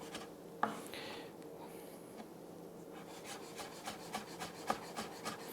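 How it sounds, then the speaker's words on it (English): A knife chopping garnish finely on a chopping board, quick light taps and scraping strokes repeating in short bursts, close and fairly quiet with no talk. "take it a couple of bits at a time and cut it really fine"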